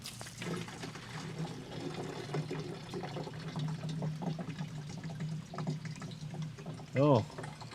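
Antifreeze drains out of a camper's water tank during winterizing, a steady splashing trickle running under people talking.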